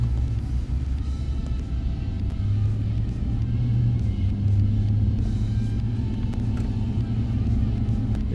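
A Ram 1500 pickup truck drives along with a steady, low engine rumble and road noise, moderately loud and continuous, with faint speech underneath.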